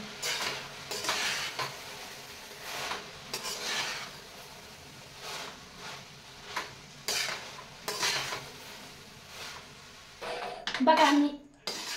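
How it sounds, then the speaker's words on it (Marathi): Chapati noodles being sautéed and stirred in a pan, with scraping, clinking utensil sounds and soft sizzling in irregular bursts, ending in a louder clatter; a voice talks over parts of it. "आता ही परतून घ्यायचंय."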